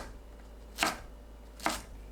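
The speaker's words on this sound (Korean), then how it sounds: "팽이버섯은 밑동을 잘라내고 찢어주세요. 1cm 길이로 썰어줍니다." A knife chops enoki mushrooms on a cutting board in two distinct, evenly spaced thuds against a quiet background.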